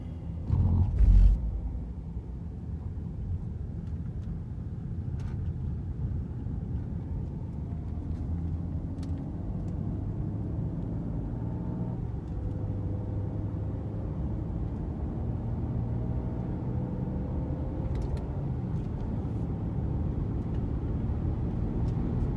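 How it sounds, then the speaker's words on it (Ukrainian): A car's engine and road rumble drone steadily and loud from inside as it speeds up onto a highway near Los Angeles, a continuous low roar with faint rising tones and no talk. "З такою швидкістю вже вилітаємо на хайвей"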